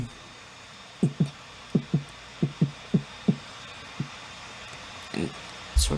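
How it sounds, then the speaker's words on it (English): Heartbeat sound effect from a game scene where a character dies, a run of soft paired thumps that gradually spread apart as the pulse slows, over steady background hiss, followed by a few rustling noises. "And you'll notice the heartbeat actually slows down a bit."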